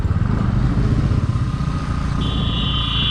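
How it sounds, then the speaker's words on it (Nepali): Steady, loud engine drone of a motorcycle cruising on a highway with constant wind rush; a high whine or tone joins near the end. "अब यहाँबाट चाहिँ अस्ति मजा आउँछ बाइक चलाउनु जान"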